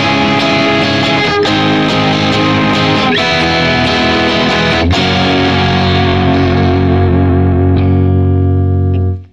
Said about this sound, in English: So when we add distortion, and no, this is not the same distortion that's on the bass in the song,